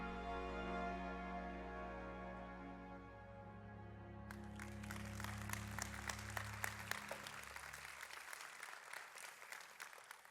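A congregation at a church service breaks into applause as sustained organ or keyboard chords fade, the clapping rising into a crisp, steady patter that continues after the music ends.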